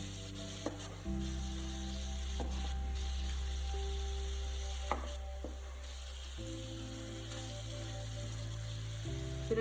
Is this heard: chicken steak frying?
yes